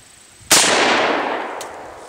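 A single loud gunshot cracks out sharply and close by, its boom ringing and decaying over the next second and a half.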